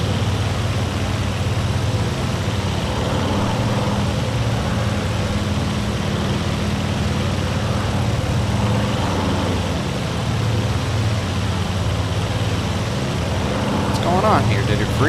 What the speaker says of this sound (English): I just hear a loud engine sound in my ear.